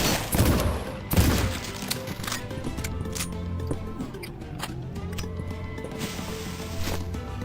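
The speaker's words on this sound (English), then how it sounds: "Bolt action rifle is what he's using." Bolt-action rifle gunfire in the Cultic video game: two loud, sharp reports come close together near the start, followed by a steady rumbling game soundscape with smaller impacts.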